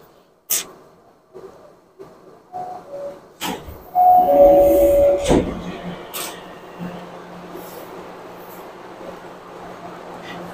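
A São Paulo metro train running, with sharp clunks and clicks, brief chime tones, then a steady mechanical hum and rumble as the train moves, heard close inside the car.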